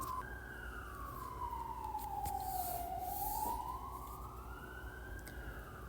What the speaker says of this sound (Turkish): dışarıdaki sirenleri duymayınız